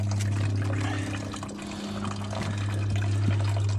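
Coolant drains from a 2005 Dodge Dakota 3.7L V6, a steady close trickle and splash of liquid over a constant low hum, with no talking.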